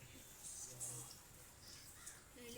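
A crow cawing a few times, the harsh calls faint and somewhat distant over background noise, with people talking nearby.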